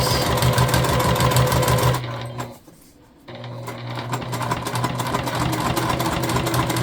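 A sewing machine stitches a self-drafted tote bag in quick, steady mechanical bursts, pauses briefly for about a second, then runs again at a continuous even pace.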